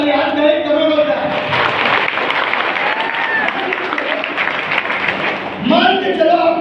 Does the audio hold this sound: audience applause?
yes